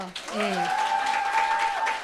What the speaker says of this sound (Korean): 크게 박수 치세요